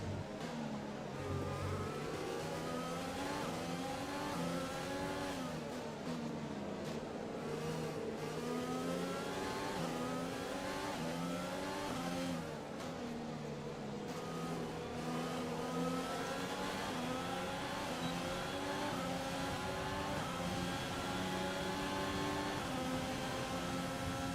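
A Formula 1 race car engine in F1 2020 whines and revs continuously, pitch rising and falling through gear changes while overtaking, loud and sustained for the whole stretch with no talking.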